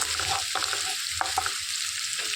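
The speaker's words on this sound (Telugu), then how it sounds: "ఉల్లిపాయలు మంచిగా వేయించేసుకోవాలి" Onions frying in a pan for a cluster bean (goruchikkudu) fry, a steady close sizzle broken by a few scraping stirs of a spatula, no voices.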